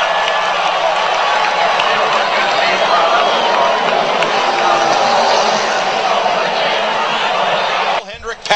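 Crowd at a NASCAR race at Talladega roars and applauds in a standing ovation, forming a loud, dense, sustained wash of cheering and clapping that breaks off at the very end.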